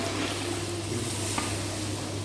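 Tempering for dal tadka fries in a pan, a steady close sizzle and crackle of spices in hot oil, continuous and even with no voices.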